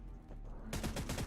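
Gunfire in a shooter video game: after a quiet moment, a short rapid burst of shots breaks in loudly and close.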